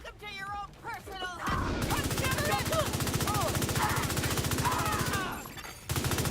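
Gunfire in the shooter game The Division, with a sharp shot then sustained rapid automatic firing in a steady rattling rhythm, loud and close, while voices talk over the shooting.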